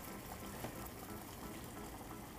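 Coconut milk and brown sugar boil in a pot on a home kitchen stove for a holiday dish, giving a steady, close bubbling hiss that runs unbroken from start to finish.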